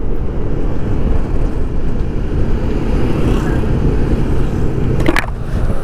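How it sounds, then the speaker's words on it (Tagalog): Strong wind batters a BOYA BY-LM20 microphone outdoors, a loud, constant low rumble and buffeting that fills the whole stretch, with a short brighter noise near the end. "Lakas ng hangin, parang tatangayin na kayo ng hangin"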